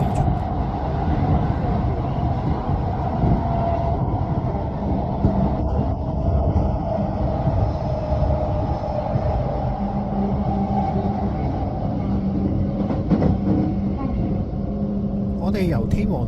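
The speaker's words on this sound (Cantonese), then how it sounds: "我哋由天王寺出發去關西機場嘅快速電車啦" A rapid train runs from Tennoji to Kansai Airport, its steady, loud carriage rumble and rolling road noise filling the whole stretch with only small changes in intensity.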